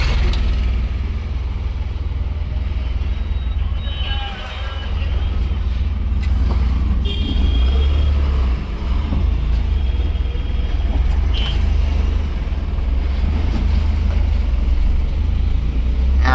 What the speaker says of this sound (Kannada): ಈಗ ಈ ಗಾಡಿ ಈ ರೋಡ್ ಒಳಗೆ ಹೋಗ್ಬೇಕು